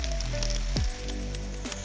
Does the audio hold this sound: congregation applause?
no